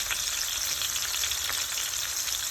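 Onion browning in a pan for a cheesy baked ziti, giving a steady, close, loud sizzle and frying crackle that runs unbroken throughout with no voices.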